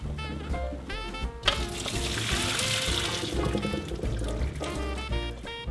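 Boiled peas are rinsed under cold running water from a kitchen tap, a steady close splashing rush that begins abruptly and runs on with small clinks of the strainer.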